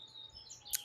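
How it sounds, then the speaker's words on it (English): Outdoor birds give a few faint, high thin chirps and one brief brighter tweet near the end, distant and soft against quiet background. "You can hear the beautiful birds."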